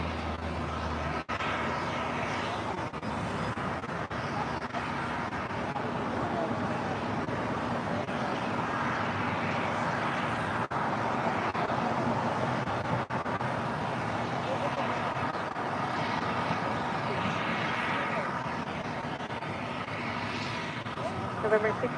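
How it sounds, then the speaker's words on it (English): An Emirates Airbus A380 rolls down runway 25 left at LAX, giving a steady, moderately distant jet rumble mixed with airport background noise, with no clear voices over it. "Now rolling down 25 left."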